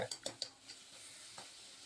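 A spoon scrapes quickly around a cooking pot of shallot sambar a few times, then settles into softer stirring over a faint simmering sizzle.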